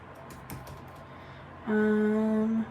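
Keyboard typing on a computer, a short run of soft, quick key clicks in the first half before a steady tone takes over near the end.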